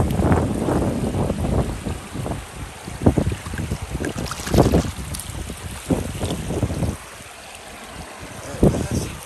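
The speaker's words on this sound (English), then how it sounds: "Wind's up, guys." Wind gusting at a river while panning for gold, a broadband rushing roar with repeated louder bursts against the microphone, alongside flowing water, close and loud throughout.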